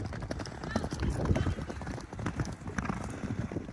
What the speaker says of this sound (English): All the horses behind me are running.